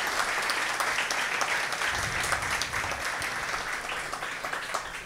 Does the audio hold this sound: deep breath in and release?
no